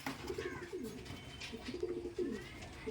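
Pakistani teddy pigeons coo in repeated low, throaty rolling phrases, close by and with a little soft background noise.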